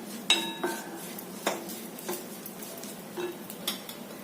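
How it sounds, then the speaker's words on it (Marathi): A utensil scrapes and clinks against a pan while goda masala spices are sautéed over low heat, giving a few sharp metallic taps and ringing knocks spaced apart over a faint background, with no voices. "मंदाचेवर मसाला छान परतून घ्यायचा आहे"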